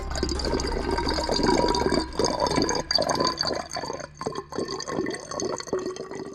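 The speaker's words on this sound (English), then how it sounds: "engineer Sun Ming Lun is pouring purified water into a measuring cylinder" Purified water poured into a measuring cylinder in a materials laboratory, a steady continuous splashing pour with bubbling and small drips, loud and close with no talking.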